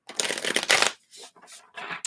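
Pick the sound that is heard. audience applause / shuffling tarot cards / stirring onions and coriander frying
shuffling tarot cards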